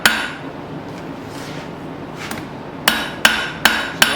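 Sharp ringing cross peen hammer blows on hot metal at a forge: one strike, a pause, then four strikes in a fairly steady rhythm, close and loud.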